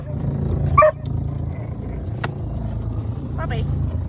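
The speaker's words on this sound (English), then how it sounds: "stop barking" A dog gives a short bark or yelp aboard a sailing boat, heard once fairly close over steady background rumble and wind.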